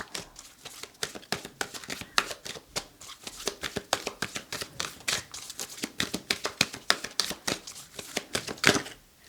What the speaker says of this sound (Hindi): आपके लिए कार्ड शफल करते हैं।